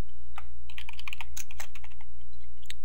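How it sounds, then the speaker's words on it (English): Typing a web address on a computer keyboard: a quick, uneven run of close, crisp key clicks and taps lasting a few seconds, with brief pauses between bursts and no voices. "Gotta retype it in."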